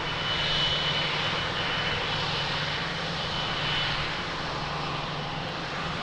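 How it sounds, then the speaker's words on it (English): A Boeing 777 jet at Lisbon Airport produces a loud, steady engine roar that holds close and constant with a slight swell early on, no voices over it. "Another big boy, 777."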